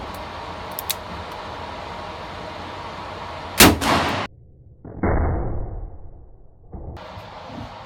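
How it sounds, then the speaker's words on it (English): A magnum six-shooter revolver fires one loud, sharp shot with a ringing tail, followed by a quieter mechanical clank against steady background noise, with no talking. "And it's a six-shooter revolver, but considerably easier to load, because the bullets are certainly bigger round"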